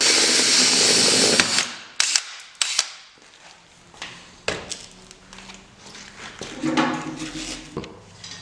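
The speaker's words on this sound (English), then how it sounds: "There's rivet holes pre-drilled in this. Just drill them out." A power drill bores out pre-drilled rivet holes in a Ski-Doo Gen4 bulkhead brace, opening with a sustained loud whir, followed by several short sharp bursts and clicks with pauses.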